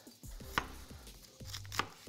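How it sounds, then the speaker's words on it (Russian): Young white cabbage being sliced thinly with a knife, cored first, a few crisp chops landing on a cutting board with short gaps between them, close and clear, no talking. "капусту нарезаю тоже тоненько"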